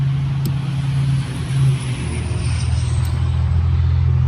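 Loud trucks pass close by on a road, a heavy engine drone and tire roar sustained throughout, with a brief hiss like an air brake near the start.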